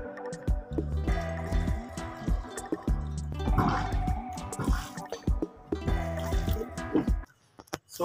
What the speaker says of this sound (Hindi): तो अभी इनमें सारे पौधों में पानी डाल रहा हूँ।